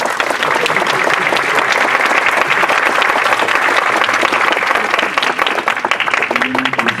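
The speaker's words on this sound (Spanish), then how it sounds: "Un aplauso por favor." Sustained audience applause at a university commemorative event at ESCOM-IPN in Mexico, dense steady clapping from a full room continuing throughout without a break.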